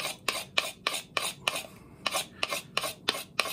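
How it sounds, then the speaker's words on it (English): A knife blade scrapes over a carved wooden spoon to take off ridges and cuts, about a dozen short, rhythmic rasping strokes close up, with no talk. "I like to actually run the blade over this"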